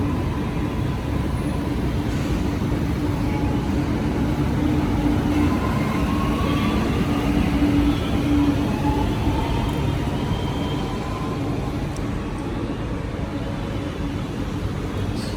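A Chennai metro train running, a steady whooshing rumble with a faint rising and falling electric whine, continuous and moderately loud for the whole stretch.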